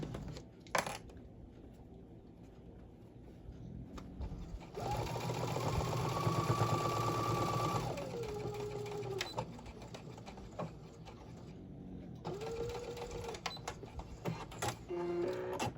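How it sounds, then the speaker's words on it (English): A sewing machine stitches straight across a seam on a small tote bag, running in a steady whirring burst for a few seconds, then in shorter runs between quiet pauses and small handling clicks, close and clear. "We're just gonna sew all the way across."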